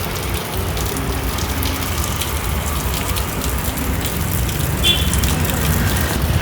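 Heavy rain and water pour down in front of the Karkala municipality office in Karnataka, a steady dense hiss of drops spattering on surfaces, close and continuous.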